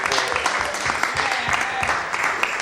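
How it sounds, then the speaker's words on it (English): Dense, loud crowd applause at a Cannabis Cup event hosted by High Times, continuous clapping from many hands close by with no pause throughout. "let's give a rousing round of applause for the Cannabis Cup and the High Times Hemp staff"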